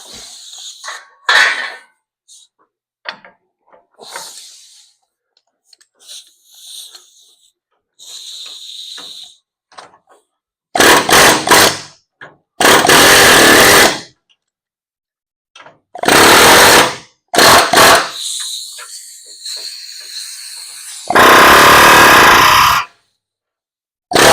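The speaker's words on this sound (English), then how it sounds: "You just work your chisel around it, and it'll usually just pop right off." An air chisel works the lower tie bar off a 1971 Dodge Challenger barn find in several loud, harsh rattling bursts of one to two seconds, separated by pauses with faint clinks and handling noise.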